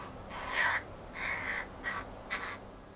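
Crows and ravens calling in a snowy winter landscape by a wildlife hide, four separate harsh caws spaced about half a second apart, mid-distance and fairly clear over a quiet background.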